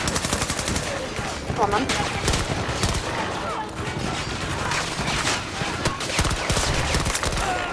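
Repeated pistol burst fire in Battlefield 2042, a rapid, sharp, loud volley of shots that keeps going almost without pause, with someone talking briefly over it.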